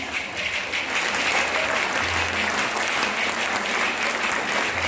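An audience claps steadily and loudly for several seconds, dense applause filling the room without letting up.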